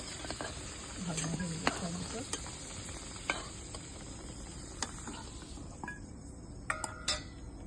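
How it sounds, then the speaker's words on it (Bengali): Two dried red chilies and two bay leaves hitting hot oil with a quiet, continuous crackling sizzle. Scattered utensil taps sound against the pan, and a faint chirping comes from the background. "এবার আমি ওই তেলের মধ্যে দিয়ে দিচ্ছি দুটো লঙ্কা দুটো তেজপাতা"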